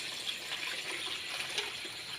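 Water is poured over straw mushroom beds, making a continuous, even splashing rush at moderate distance with faint irregular spatters and no talking.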